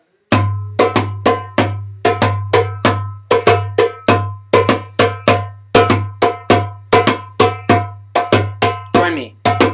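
A reggaeton beat is drummed with alternating left and right hands on a cowbell-like percussion over a steady low pulse, giving sharp, evenly spaced hits in a repeating syncopated pattern, loud and close.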